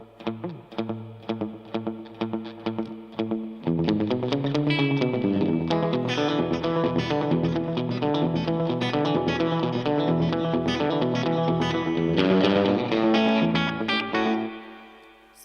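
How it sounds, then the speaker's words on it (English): A warm tape-style echo effect unit repeats guitar notes with slapback delay and light overdrive, opening with plucked picked notes, then swelling into a dense, sustained wash of repeating chords and lines that fades abruptly at the end. "It's just another type of warm echo."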